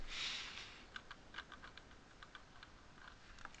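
A dusty computer keyboard clicks softly during a Total War strategy game, with scattered irregular keystrokes and taps over a quiet room hiss, no voices.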